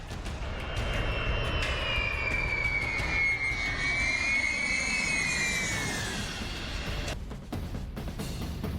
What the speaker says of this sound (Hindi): उसने अपने सबसे खतरनाक बम वर्षक विमान को एक्टिव कर दिया।